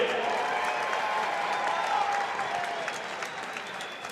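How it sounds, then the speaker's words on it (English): An arena crowd at an Island Fights MMA event applauds the two fighters in the ring, a dense clapping roar with some cheering that eases off toward the end. "how about a round of applause for these two men inside the ring?"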